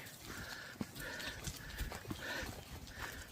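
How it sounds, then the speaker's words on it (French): Horses on a misty rural path along the Camino Francés between Zubiri and Pamplona, heard faintly at a distance with soft hoof sounds and snorts over outdoor ambience. "Toujours des chevaux."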